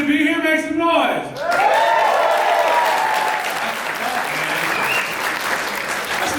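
Comedy club audience at the Tempe Improv bursts into loud applause and cheering that rises after a voice and holds as a steady, close wash of clapping.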